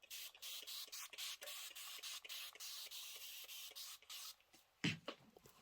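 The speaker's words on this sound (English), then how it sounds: "But then I'm going to spray them one by one." Quick repeated bursts of a pump spray bottle misting fabric quilt pieces before ironing, a steady rhythm of short hissing puffs, close and fairly quiet, ending with a louder knock or handling sound.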